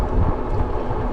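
Wind buffeting the microphone during a bicycle ride near Starkey Wilderness Park, a steady, loud, low rumbling roar with no pauses and no talking.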